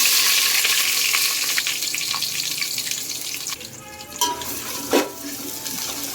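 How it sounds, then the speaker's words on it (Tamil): A steady hiss of onions frying in a hot pan for biryani, with a few clinks of a utensil near the end. "இதை நல்லா கருகாமல் நல்லா ஃப்ரை பண்ணி விட்டுக்கலாம்"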